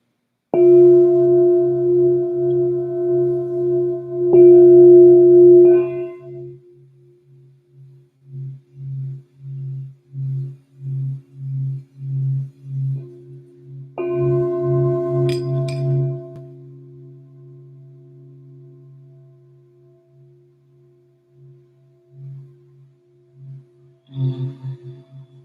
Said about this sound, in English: Let me sound our bowl.